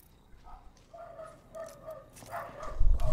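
Small dog yipping and barking a handful of times at moderate distance, short high bursts spaced irregularly over background noise, ending in a louder low rumble.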